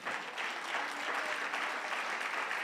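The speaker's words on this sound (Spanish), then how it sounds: "Dale un aplauso ahí al Señor." A church congregation applauding, dense sustained clapping from many hands filling the room evenly throughout, with no voice over it.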